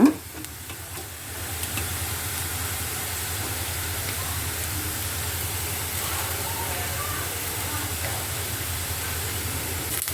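Fried okra (bhindi) with salt and lemon juice being stirred in a pan: a steady, soft sizzle with scraping stir sounds continues throughout at a moderate level, with no voice over it.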